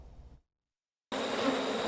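Bees buzz in a dense, steady hum close by, starting suddenly after a short silence and continuing without a break. Nothing else is heard over it.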